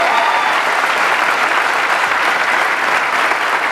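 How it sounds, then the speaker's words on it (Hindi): A stage audience at a motivational speakers' event breaks into loud, thick, continuous applause, a dense roar of many clapping hands without pause. "इनके लिए एक जोरदार तालियां"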